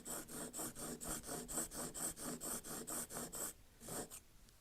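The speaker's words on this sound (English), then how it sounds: "Now I'm sharpening the other side." A swivel knife blade for leatherwork being sharpened on its other side, giving a quiet, even rhythm of about a dozen rasping strokes that then stop, with faint handling noise after.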